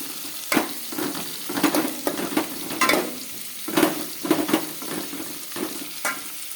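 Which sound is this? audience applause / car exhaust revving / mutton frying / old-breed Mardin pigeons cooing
mutton frying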